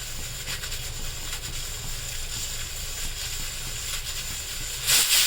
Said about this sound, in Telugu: మూడు విజిల్స్, ఇంకో విజిల్ వేసుకుందా